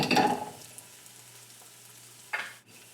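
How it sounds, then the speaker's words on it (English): Ginger hits a hot pan for a quick sauté, a brief burst of sizzle and stirring at the start that settles into a low, steady crackle, with another short stir near the end. "Now we're just looking for a really quick cooking, a quick saute,"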